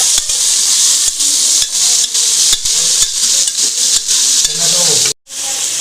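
Cluster beans, eggplant and potato fry in a pan with a loud, continuous sizzle, broken by regular clacks of a stirring spoon and one brief pause near the end.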